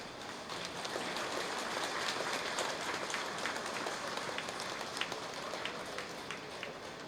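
An audience at a Tamil astrology book launch applauds in a steady, fairly faint wash of many hands that keeps going for about seven seconds with no break.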